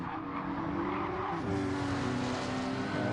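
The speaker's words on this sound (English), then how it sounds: "All right, hard braking into this corner." Gran Turismo GT-R Group 4 race car braking hard into a corner at Deep Forest, with a loud steady engine drone, a pitch drop mid-way and tire squeal layered throughout.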